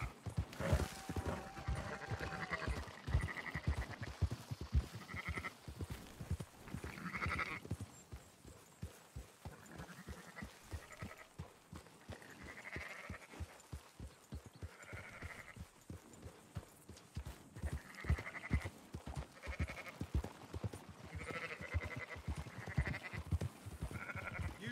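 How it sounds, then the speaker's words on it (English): Sheep bleat repeatedly in Red Dead Redemption 2, mixed with hoof clip-clop from horses and livestock, while people talk between the calls. "Marston, why don't you leave the sheep to me"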